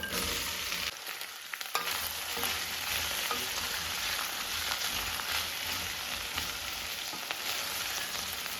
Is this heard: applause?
no